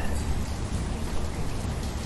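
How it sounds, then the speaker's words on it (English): Steady rain in the city-building game Banished, a dense, even wash of falling drops that stays constant and fairly loud throughout with no voices over it. "it's currently raining, which is not ideal"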